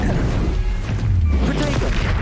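A fire spell cast in the video game Hogwarts Legacy bursts with a dense, crashing blast and rumbling low roar, layered over continuous game combat noise for a couple of seconds.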